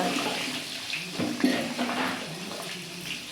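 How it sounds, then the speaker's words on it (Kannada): Water splashes and sloshes steadily as a pet is bathed, a continuous close wash of water with a few brief louder surges and no clear talk. "ನಮ್ಮ ಮೋನಿಗೆ ಸ್ನಾನ ಮಾಡಿಸ್ತಾ ಇದ್ದಾರೆ ನಮ್ಮ ತಾಯಮ್ಮವ್ವ ಅವರು"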